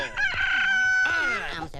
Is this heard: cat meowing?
no